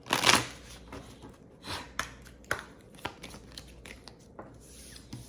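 Tarot cards sliding and slapping as they are pulled from a deck: a quick riffling burst at the start, then soft scattered card flicks and rustles, close and fairly quiet.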